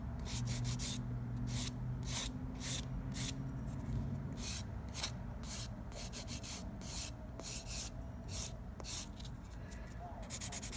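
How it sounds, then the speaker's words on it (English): Nail file rasping off an Azure dip powder set on baking soda nails, a close, steady scratching in quick repeated strokes that continues throughout with short pauses. "I am going to file most of it off so you guys can see"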